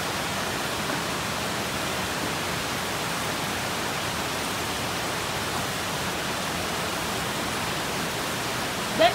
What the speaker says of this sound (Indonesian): Lalu kita siram dengan air.